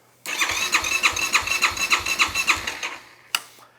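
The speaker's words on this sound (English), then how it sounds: "flip it on, hold your throttle open, and we're going to give it about 6 cranks, and that should max it out" ATV engine cranking over with the throttle held open during a compression test: a starter whirs the engine through about a dozen rhythmic compression pulses, then stops, followed by a sharp click.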